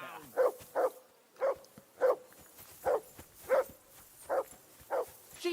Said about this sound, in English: Henry, that barking's driving me nuts. Can you get your dog to shut its beak?